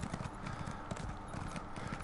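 Horse hooves clip-clopping in the fantasy video game Elder Scrolls Online, a steady rapid gait of muffled clops under continuous background game ambience, with no talking.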